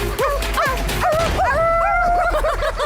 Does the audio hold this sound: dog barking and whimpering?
yes